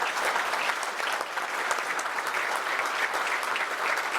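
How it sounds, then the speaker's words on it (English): Sustained audience applause at a community gathering, dense and steady at moderate volume for a few seconds with no voices standing out. "Now seems a good time to recognize them with a round of applause for all they've done."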